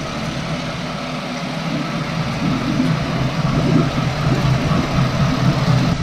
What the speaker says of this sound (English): I changed out the spark plugs and ran some seafoam through the engine, and it's running at a pretty low idle.